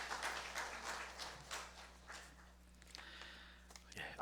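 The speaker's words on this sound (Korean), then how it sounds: "우리 박수로 크게 격려해 주시겠습니다" A church congregation applauds during a Sunday morning worship service, giving a faint, steady spread of many hands clapping at a distance for several seconds.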